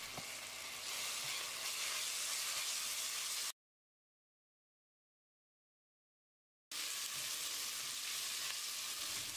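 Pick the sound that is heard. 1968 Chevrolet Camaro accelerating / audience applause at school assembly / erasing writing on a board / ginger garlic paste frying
ginger garlic paste frying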